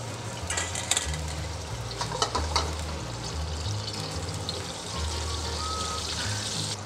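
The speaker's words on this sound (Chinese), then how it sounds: "咸鱼拿去炸" Salted fish frying in hot oil in a wok, a steady, dense crackling sizzle with a few sharper pops and occasional light scraping, with no talk over it.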